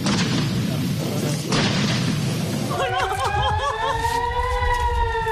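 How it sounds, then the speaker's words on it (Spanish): Bombardment with air-raid sirens in Israel: loud rumbling blasts and booms at first, then wailing sirens rising and falling over continuing noise, with a voice faintly present. "un sinfín de explosiones se escuchaban a su alrededor."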